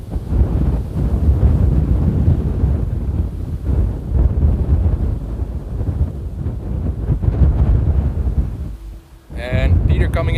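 Strong gusty wind roars and buffets the microphone outdoors at Amsterdam Airport during windy aircraft arrivals, a continuous low rumbling blast that eases briefly near the end before surging back.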